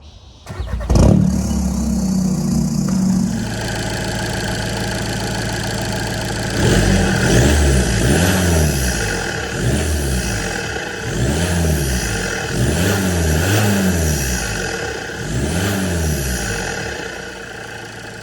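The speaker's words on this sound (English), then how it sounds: "let's get a cold start and get some intake noises for you guys" A turbo-diesel Mk6 TDI with EGR and EGR cooler deleted and a new turbo cold-starts with a sharp crank and catch, then settles into a loud, close idle. Rhythmic intake whooshes and turbo spool surges rise and fall about every 1.5 seconds.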